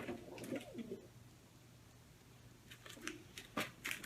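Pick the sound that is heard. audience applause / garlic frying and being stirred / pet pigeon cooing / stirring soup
pet pigeon cooing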